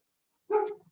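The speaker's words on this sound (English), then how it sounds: "there's a happy dog" A single short dog bark, fairly close and clear, comes after a moment of silence, with a soft whimpering tail as it fades.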